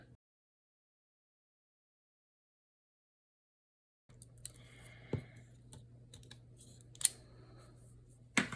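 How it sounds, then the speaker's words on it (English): Decorative edge scissors trimming the top of a paper tag, faint crisp snips and small clicks at close range over a low hum, after a few seconds of silence. "I'm gonna use decorative edge scissors to trim the top"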